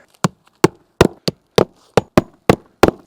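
Hammer blows driving fasteners into a roof pipe boot and shingles, about nine sharp, close knocks at an uneven, unhurried pace with silence between.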